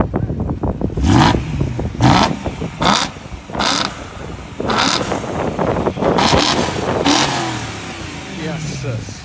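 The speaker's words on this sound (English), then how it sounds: "Give it a couple of revs there" A BMW E92 M3 engine revs repeatedly in loud, sharp bursts, with voices talking between and under the revs.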